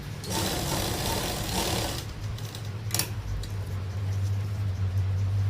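A sewing machine stitches a neckline on a garment, a steady close mechanical whir with a low hum underneath and a brief click partway through.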